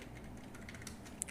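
Fingers tap a computer keyboard softly and close by in a quiet room, leaving a short run of light, quick clicks with one slightly sharper keystroke near the end.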